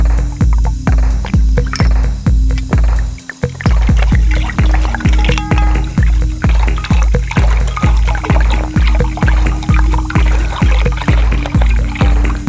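Water is poured into a container holding about one litre, a loud close-up stream with a rapid regular glugging pulse that runs steadily throughout, briefly interrupted once near the start, and no speech.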